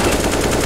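A short, dense burst of rapid gunfire from Counter-Strike on the Mirage map, loud and continuous for under a second with no pauses between shots.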